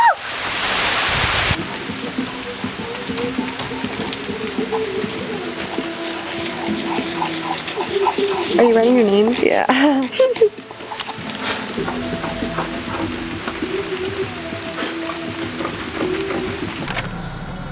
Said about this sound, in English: It's raining very hard.